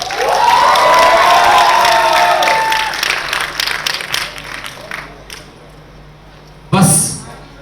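Loud crowd cheering and whooping at a series trailer launch event, swelling into dense clapping that fades out, then a brief sharp burst of noise near the end; a voice rises over the crowd at the start.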